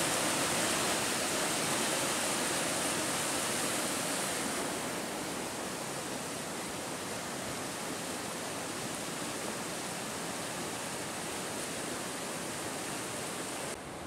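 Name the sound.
water flowing during mountain storm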